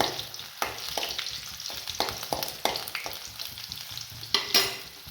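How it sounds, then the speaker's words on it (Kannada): Dried red chillies and garlic fry in hot oil in a pan on medium flame, giving a steady close sizzle broken by repeated scraping and stirring strokes, with no one talking. "ಹಾಗೆ ಬೆಳ್ಳುಳ್ಳಿನೂ ಸಹ ಹಾಕ್ಕೊತೀನಿ. ಒಂಚೂರು ಫ್ರೈ ಆಗಿ"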